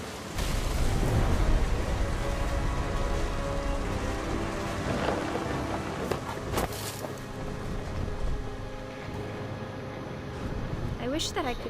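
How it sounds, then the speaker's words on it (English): A thunderstorm with steady heavy rain and low rumbling thunder from the video game What Remains of Edith Finch, continuous and fairly loud, with a person speaking over it throughout. "Thunder sounded much too close and full of angry power."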